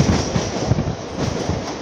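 Mumbai fast local train running through Matunga junction without stopping, with a steady loud rumble and a rhythmic clatter of wheels over rail joints, heard up close from onboard.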